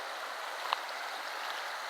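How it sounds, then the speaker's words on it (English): Babbling brook on the Gunpowder River, a steady close hiss of running water without pause, with faint splashes. "This is a babbling brook."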